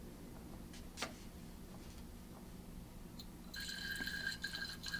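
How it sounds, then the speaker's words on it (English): Basic solution poured into an acid in a glass vessel during an acid-base titration, a faint liquid trickle with small glassy ticks, quiet and close, growing steadier toward the end. "we are going to start pouring the base in."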